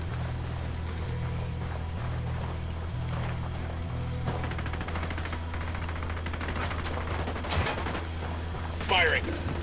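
Gunfire from a Ghost Recon: Wildlands firefight, with bursts scattered across a steady low engine-like rumble, a sharper crack near the end, and voices talking over the action.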